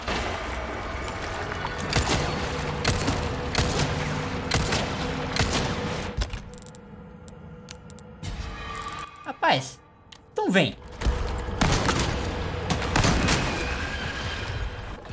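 Pistol shots and gunfire in the video game Resident Evil 4 Remake come as loud sharp bursts through the clip, amid dense game noise, with a brief quieter watery stretch and someone talking over it.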